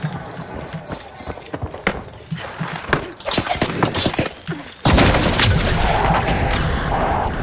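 A grenade blast in a competitive team shooter game bursts out suddenly partway through, a loud broadband explosion that stays dense and sustained after several sharp impacts and clatter, with a commentator's voice running beneath the mix.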